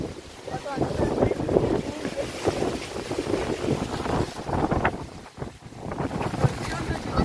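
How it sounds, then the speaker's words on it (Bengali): A strong windstorm roars and buffets the microphone with loud, uneven gusts that rise and fall throughout. "প্রচন্ড জোরে ঝড় উঠেছে।"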